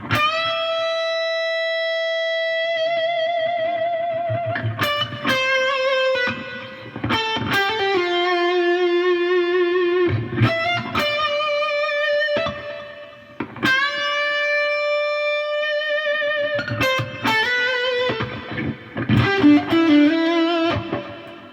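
A Gibson Les Paul electric guitar on the bridge pickup, volume and tone fully up with no pedals, plays sustained, saturated lead notes and bends in phrases separated by short pauses, with no voice.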